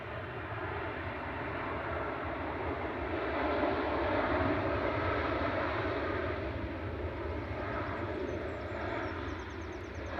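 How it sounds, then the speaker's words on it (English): An Airbus A330-300 lands at Manchester Airport with reverse thrust engaged, giving a sustained loud broadband jet roar that swells slightly mid-way and holds steady for about ten seconds, with no voices over it. "Iron Man reverse thrusters"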